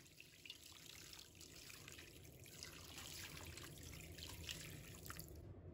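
Boiling water is poured over chicken legs in a bowl, a soft continuous splashing trickle, faint and steady throughout with no voices.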